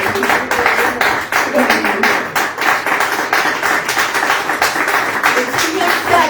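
A church congregation claps loudly and rhythmically at a Spanish-language service, a dense, close run of steady beats mixed with voices throughout.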